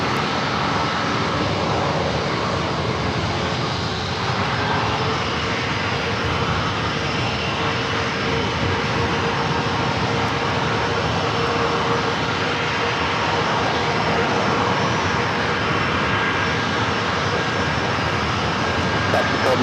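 At San Diego airport on runway 27, an airliner's engines roar continuously and loudly during takeoff, a dense broadband rush with no break, while radio chatter runs underneath.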